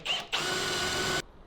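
A power drill fitted with a step drill bit whines in a garage teardown of an HQ Holden body. A short burst is followed by a steady, high-pitched run of about a second that stops abruptly.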